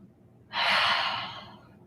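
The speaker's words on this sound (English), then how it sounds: "On your final exhale, open the mouth, let out that big cleansing breath." A big cleansing exhale through an open mouth during a yoga flow: quiet breathing, then a sudden loud, breathy whoosh that holds for about a second and slowly trails off.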